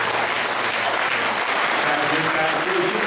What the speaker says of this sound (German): Give a clap, applause.